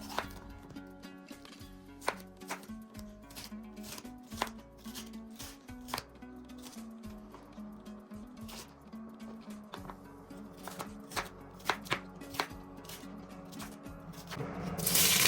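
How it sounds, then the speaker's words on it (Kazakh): Carrots, bell peppers and semi-hot peppers are cut into thin strips with a knife, giving a quick run of sharp, close chopping taps against a board, steady throughout with no talk. "Сәбізді болгар бұрышын және жартылай ашты бұрышты кішкентай майда"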